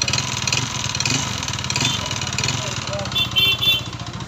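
A Honda CBR motorcycle with a sound problem idles with a rhythmic, close mechanical pulse and is given light throttle blips, while people talk nearby.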